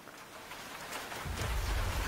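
Steady rain falling, a soft hissing wash that swells into a heavier, fuller downpour with low rumble midway, moderately quiet and with no voices.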